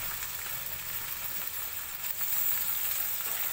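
Chopped beans fry in a pan for a vegetable biryani, making an even, close hiss and sizzle that swells slightly toward the end, with no talking.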